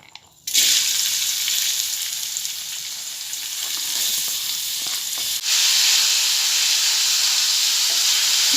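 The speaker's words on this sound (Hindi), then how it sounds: "तेल गर्म हो चुका है। अब मैं इसमें प्याज डालूँगी।" Onions drop into hot oil in a gas-stove pan and burst into a loud, steady frying sizzle that swells again midway, close and continuous with no talking.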